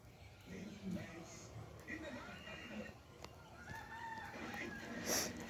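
Chickens cluck with a rooster crowing now and then, scattered and mid-distance in an outdoor farm setting, with a person talking over the fowl sounds.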